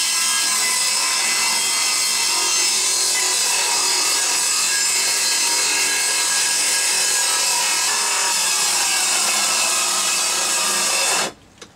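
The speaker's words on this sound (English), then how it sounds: "The best way to cut a straight line is with the circular saw." A circular saw cuts a straight line through a wooden locker, a loud, steady, close-up grinding whine that runs unbroken for about eleven seconds before stopping abruptly.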